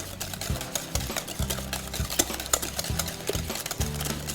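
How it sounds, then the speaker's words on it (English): A sweetener mixture for lemon protein bars is whisked briskly in a bowl, producing rapid, rhythmic scraping and tapping strokes up close with a low motor-like hum underneath. "I'm gonna mix that together really well"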